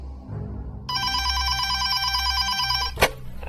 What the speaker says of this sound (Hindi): ठीक 11 बजे फोन की घंटी बजी।